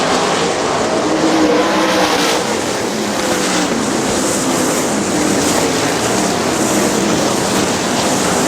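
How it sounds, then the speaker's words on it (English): Loud, continuous roar of 410 sprint car engines as they race around Butler Battlegrounds dirt track in Quincy, Michigan, in 1999, a dense unbroken drone with no talk. "The Wild Child trying to bring that 5 car through traffic."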